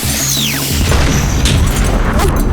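Green Goblin's pumpkin bomb blowing up in a Spider-Man film effect: a whistling sweep falls away into a loud, sustained booming rumble, with sharp crackling bursts flaring through the blast.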